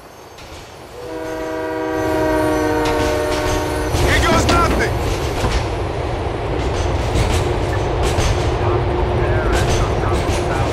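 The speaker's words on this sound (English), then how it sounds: "Here's where you board the train." Train in GTA IV: The Ballad of Gay Tony, its horn sounding in a loud sustained multi-tone blast near the start, then rumbling and clattering wheels continuing loudly close by.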